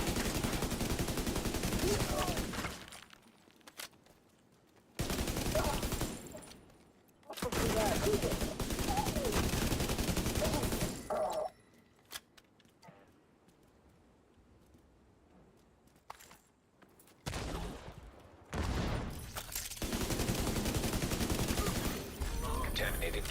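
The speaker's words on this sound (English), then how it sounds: "Hostile artillery turret detected." Sustained bursts of heavy automatic gunfire from a hostile artillery turret in a video game, several long loud volleys separated by quieter gaps, close and harsh.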